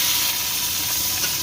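Onions frying in oil in a pan with bay leaf, dried red chili and cumin seeds, giving a steady, close sizzle and hiss with no talking.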